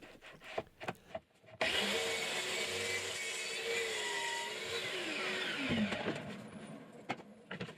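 A power saw makes a test cut in wood while building tool shelves, a steady loud whine that holds for several seconds and then winds down, with short knocks and handling noises before and after.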